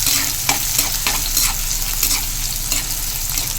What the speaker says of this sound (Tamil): இதை போட்டு நல்லா வதக்கிடும். இது கூடவே ஒரு பச்சை மிளகாய் போடுறேன்.